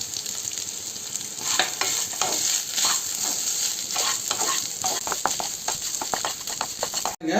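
Grated coconut being stir-fried in a pan for an elephant foot yam dish, a steady close sizzle with repeated scraping and stirring strokes of a spatula that grow more rhythmic, ending with an abrupt cut.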